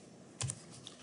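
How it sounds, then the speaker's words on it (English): A single plus-key press on a computer keyboard makes a faint, quiet click against near silence. "I'll hit the plus key on the keyboard"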